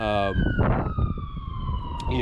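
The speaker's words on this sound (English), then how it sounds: "There goes another ambulance as well." An ambulance siren passes outside, its wailing tone sliding downward in pitch through a room, loud and steady behind a person's speech.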